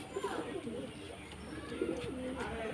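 Soft cooing of pigeons, low throaty warbles repeating at close range over faint background noise.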